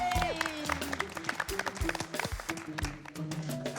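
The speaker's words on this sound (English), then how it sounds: "Give yourselves a round of applause." A round of applause breaks out from a group in a studio setting, a dense patter of clapping under music and voices, moderately loud and lasting a few seconds.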